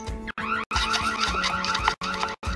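A Ring Spotlight Cam security alarm blares in a TV advert, a loud electronic warbling siren in rapid pulsing bursts broken by short silent gaps.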